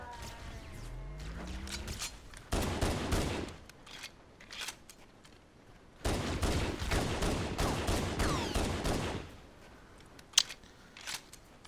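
Pistol gunfire in the video game Halo Combat Evolved, coming as dense bursts of sharp shots across two long stretches with a few isolated cracks afterward, loud and alone.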